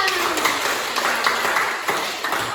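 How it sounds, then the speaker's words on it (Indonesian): A class of students claps together in a short burst of dense, close applause filling the room, tapering toward the end. "Oke, tepuk tangan untuk kita semua."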